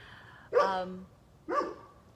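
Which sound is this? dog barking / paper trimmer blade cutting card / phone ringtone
dog barking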